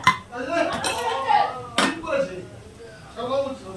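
Boiled potatoes and soybean chunks tumble into ginger, cumin and chilli paste masala frying in a pan, making a few clattering knocks and scrapes of metal against the pan, with voices murmuring in the background.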